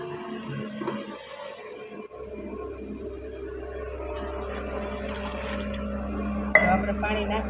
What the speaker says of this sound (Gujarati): આપણે પાણી નાખી દીધું છે